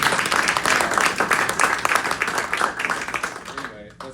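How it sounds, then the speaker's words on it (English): A room of people at a retirement gathering for a Golden Engineering employee claps loudly in a dense burst that thins out near the end, with voices mixed in. "You guys can clap for that."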